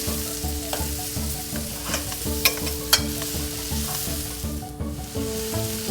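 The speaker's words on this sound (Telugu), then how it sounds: "ఇవన్నీ కొంచెం ఫ్రై అయిన తర్వాత మ్యాంగో పీస్ని కూడా వేసి కలుపుదాం" Mixed vegetables with broad beans and mango pieces frying and being stirred in a pan for curry, a steady close sizzle with scraping stirs and a couple of sharper clinks, no talking, over faint background music.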